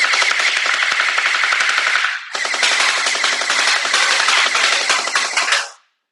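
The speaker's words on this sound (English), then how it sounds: "We got the drum mag on from the M4A1. We're going to shoot with it." An M16-style gel ball blaster fitted with a drum magazine fires in sustained full-auto bursts, a dense rapid rattle running close and loud for over five seconds with a brief break partway through.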